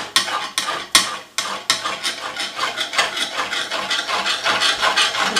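A knife chopping spinach coarsely for a Tunisian yabrak filling, several sharp chops up front, then a fast, continuous rhythm of close, crisp cuts against a board.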